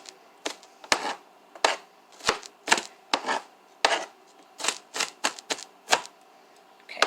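A knife dices food on a cutting board while preparing chicken and dumplings, giving close, crisp chops in uneven bursts, sometimes quick, sometimes spaced out, over a quiet room with no talking.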